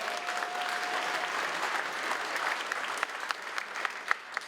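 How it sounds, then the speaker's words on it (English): Crowd at a civic and community awards ceremony gives a round of applause, dense clapping at first that thins out toward the end into a few distinct, louder individual claps. "Give them a round of applause."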